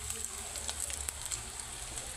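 Chilies, onions and ginger sizzle in hot oil in a pan, a steady, close frying hiss with faint crackles and no talking.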